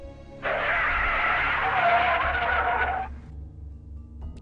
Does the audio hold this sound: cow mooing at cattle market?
no